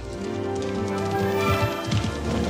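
A horse from the War Horse film moves with soft hoof clip-clops and rustling near the end, heard under a sustained orchestral music bed in a short, fairly loud passage.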